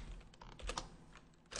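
Quick, light keystrokes on a computer keyboard, a short cluster of clicks heard up close and faint with no talking.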